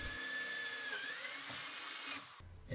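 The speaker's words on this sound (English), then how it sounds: "Then I drilled a hole into the wood using a drill bit" A high, whining power drill bores a hole in plywood, running steadily for a couple of seconds, pitch dipping slightly under load, then cuts off abruptly.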